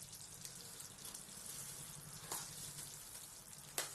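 Flour mixture tipped into bubbling sugar syrup in a pan while making panjiri, a steady low sizzle with soft scraping and a couple of sharp clinks, close and alone.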